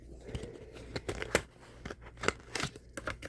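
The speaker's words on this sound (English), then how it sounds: "It says scissors, so let's just do the scissors." Close, crisp scissor snips and crinkly tearing sounds as packaging is cut open, irregular cuts scattered across a few seconds.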